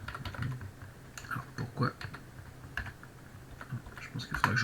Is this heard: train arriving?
no